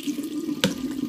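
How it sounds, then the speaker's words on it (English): Hot water running from a bathroom tap into a sink during a facial skincare routine, a steady close hiss with one brief louder splash midway. "I'm just going to run my hot water"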